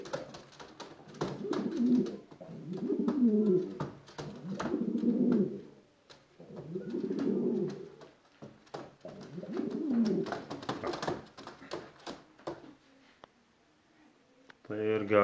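Syrian red and white pigeons cooing nearby, about six rounded, throaty coo phrases in a steady rhythm with short pauses between them.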